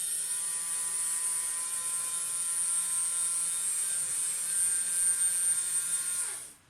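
LEGO motors drive an 8-to-48-tooth gear train with a steady high-pitched whine and faint hum, running evenly for several seconds before cutting off abruptly at the end.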